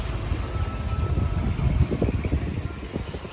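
Sea at a small harbour fishing town in Crete, a constant close wash of waves and wind rumble with surges of splashing, fairly loud and steady.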